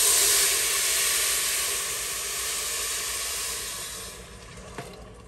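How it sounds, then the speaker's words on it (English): Tomato-onion broth mixture poured onto browned rice in a hot pot, giving a loud, steady sizzle and hiss that slowly fades, with no talking. "my rice is brown enough, so I'm just gonna pour this whole mixture in."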